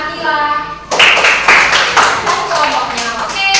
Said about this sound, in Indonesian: Beri tepuk tangan buat Mbak Akila